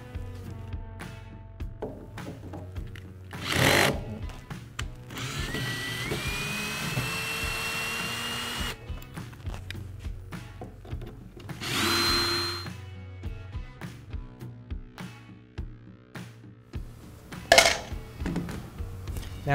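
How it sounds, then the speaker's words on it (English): Power tool whirring in bursts while removing the four base screws of a Mantus scuba compressor, close and fairly loud, with a few louder high-pitched spells and scattered clicks between. "So we're going to use a screwdriver."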